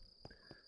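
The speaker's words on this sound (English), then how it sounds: "Guess it's still technically nighttime because of the crickets" Crickets chirp at night in a video game, a steady high, thin chirring that runs through the whole moment with a couple of soft knocks underneath and no one speaking.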